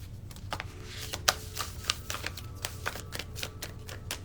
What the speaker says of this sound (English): Next card. I'll do two more.